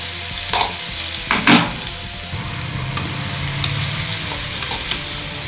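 Beans with salt sauté in a hot pan for a Tamil home lunch, a steady close sizzle with a few sharp scraping stir strokes near the start and light taps later, no voices.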